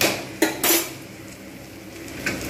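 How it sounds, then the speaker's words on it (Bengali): Metal spatula scraping and clattering against a brass wok while fried potato, pumpkin and pointed gourd are stirred, with a few sharp knocks near the start and a quieter scrape toward the end, no voices. "ভালো করে নাড়িয়ে নিয়েছি।"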